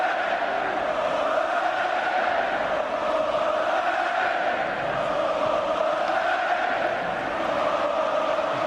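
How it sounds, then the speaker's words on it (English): Football stadium crowd at a Betis versus Barcelona league match, a steady, far-off roar of many voices singing and cheering, continuous and even throughout. "The crowd are enjoying themselves."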